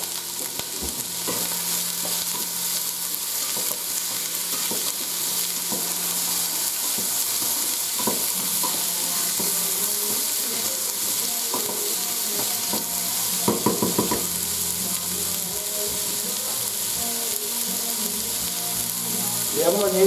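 Steady sizzling of onion frying in a hot pan over medium-high heat, continuous and close, with occasional stirring clatter and a brief scrape partway through.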